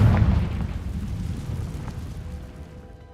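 Confringo fire spell detonating in Hogwarts Legacy, a deep rumbling boom that bursts at the start and then rolls and fades away over a few seconds, alone without talk.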